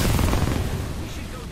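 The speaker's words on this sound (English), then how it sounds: "Look out, grenade." A grenade blast in Apex Legends, a single loud low boom that fades over a second, with a voice under it.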